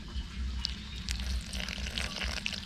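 Boiled fermented fish sauce (pla ra) cooked with mackerel being poured into a bowl, a steady close liquid trickle and splash lasting a few seconds without talk.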